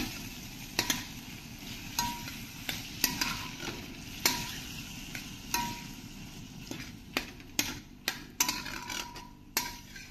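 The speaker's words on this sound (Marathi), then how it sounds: "हे पहा, आता आपण हे छान असं मिक्स करून घेऊया." Taro leaf (arbi) vegetable being stirred in a pan, a soft continuous sizzle broken by repeated sharp scrapes and taps of the spoon against the metal, close and steady, with no voices.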